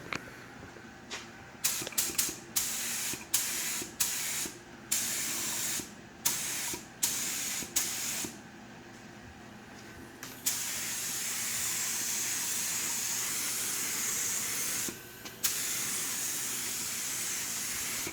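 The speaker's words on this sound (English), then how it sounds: "we're spraying super thin right now" A spray gun hisses in a series of short bursts, then settles into one long continuous spray of thin single-stage paint on a Dodge D100 truck, close and steady.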